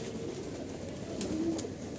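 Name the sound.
pigeons cooing in a loft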